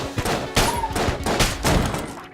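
Rapid automatic M16 fire in the game Enter the Gungeon, a dense burst of quick repeated shots with in-game effects, loud and continuous.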